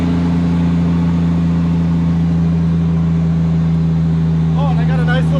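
A Toyota Mk3 Supra engine runs steadily at light throttle, a loud, constant low drone with a strong hum, nearby and unbroken throughout.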